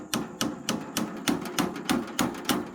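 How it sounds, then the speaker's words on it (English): A nail is hammered into wood with about nine sharp, evenly spaced blows, close and fairly loud, the wood starting to split under the strikes. "this is like breaking as I hammer it"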